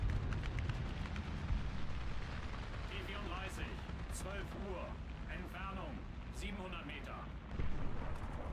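Tank cannon shots and low booming bursts in the War Thunder combat game, rumbling under someone talking over them, with a louder blast near the end.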